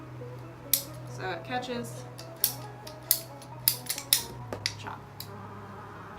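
A cosplay staff end cap being cut, heard as a series of sharp snipping clicks spread across several seconds under a low hum, with a person speaking briefly.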